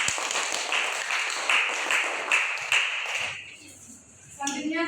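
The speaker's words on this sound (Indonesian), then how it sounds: "tepuk tangan untuk kelompok 1" A classroom group gives student group 1 a round of applause, steady clapping for about three seconds that fades out as a voice begins speaking.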